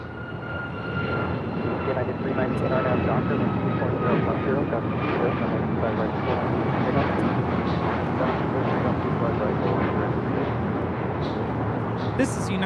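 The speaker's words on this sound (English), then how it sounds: "This is United Airlines 1621 taking off to Orlando on a MAX 9" A United Airlines Boeing 737 MAX 9 takes off at LAX, a loud, steady jet roar filling the whole stretch with broad rumble and engine whine, holding even throughout with no talk over it.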